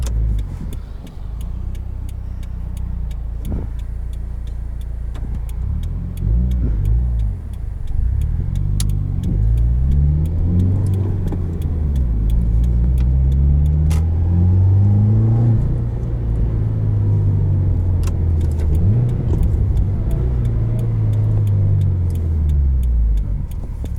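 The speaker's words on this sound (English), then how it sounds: "Sounds awesome with the Cobb exhaust, and you'll get some nice pops and burbles." A 2017 Subaru WRX boxer engine with a Cobb exhaust revs repeatedly, its loud, deep note climbing and falling in long sweeps, with a rumbling idle and some pops between revs.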